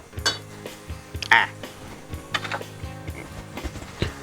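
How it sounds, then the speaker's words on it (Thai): Spaghetti noodles tossed in a pan for a shrimp spaghetti dish, with repeated metallic clinks and scrapes of utensils against the pan in an uneven rhythm, close and moderately loud. "คลุกเคล้าเส้นก่อนนะครับ"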